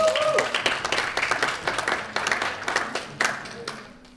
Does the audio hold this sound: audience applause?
yes